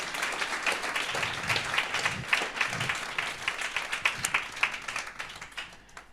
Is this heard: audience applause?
yes